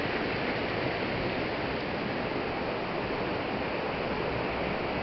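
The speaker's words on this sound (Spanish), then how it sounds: "está realmente con poca agua este río cerca a la bocatoma del acueducto de la Reforma" Low river with little water flowing near the intake of the Reforma aqueduct in Villa Carmelo, Colombia, a steady, even rushing hiss with no breaks and no voices.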